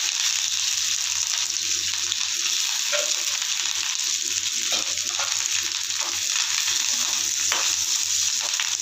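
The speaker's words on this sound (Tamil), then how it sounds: "தாளிச்சு விட போகிறோம் கொஞ்சம் நல்லெண்ணெய் நீங்கள் தேங்காய் கூட ஊற்றிக்கலாம் வெங்காயம் கொஞ்சம் கருவேப்பிலை" Sesame oil tempering with onion and curry leaves for a Kerala-style aviyal, a steady close sizzle with faint stirring clicks throughout, unbroken and without talk.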